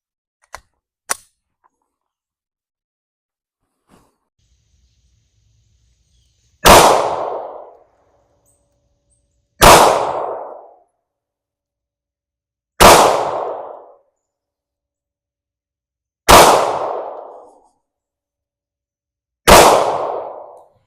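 Five loud, sharp pistol shots from a Glock 19X ring out one at a time at roughly three-second intervals, each with a short echoing decay, after two faint clicks near the start.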